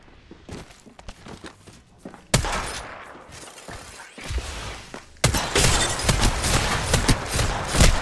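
Rapid gunfire and sharp bullet impacts in an Apex Legends match, a dense loud burst of shots with clattering effects that opens up after a quieter stretch of footsteps and scattered shots.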